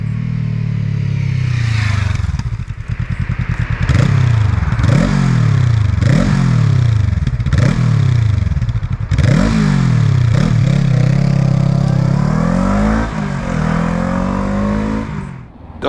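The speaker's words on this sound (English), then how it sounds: "I'm going to take you to a bit of town riding and going through traffic and let you know what that's like." A 2023 Honda CL500 motorcycle rides through town traffic, its engine close and loud, revving up through the gears in a run of repeated rising pulls and shifts, then settling into a steady drone.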